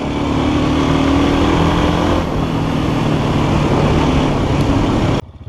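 A Forte motorcycle engine revs hard and holds a loud, steady drone with a low hum before cutting off abruptly near the end, heard alone.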